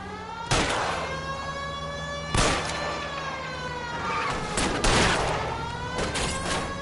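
Gunfire at a fleeing car's tires during a car chase in the video game L.A. Noire, three loud sharp shots spaced a couple of seconds apart, each ringing out with a long metallic tail over a steady engine drone.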